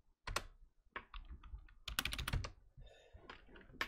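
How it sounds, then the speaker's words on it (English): Typing on a computer keyboard, with irregular bursts of close, crisp key clicks and pauses between them, no voices. "Oh my God, why is my keyboard not working?"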